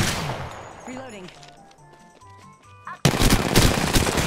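Automatic gunfire in Apex Legends bursts in loud and sustained near the end, following a quieter stretch of game effects and a brief voice.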